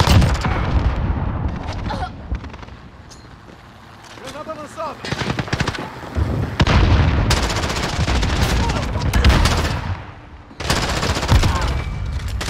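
Submachine gun fire in Warzone, repeated loud bursts of rapid shots with sharp cracks between quieter stretches, close and punchy.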